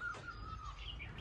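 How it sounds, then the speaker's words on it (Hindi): Birds chirp in the morning outside a room, a faint steady high tweet with a few brief calls over a low background hum, no voices. "चिड़ियों की आवाज कितनी प्यारी लगती है"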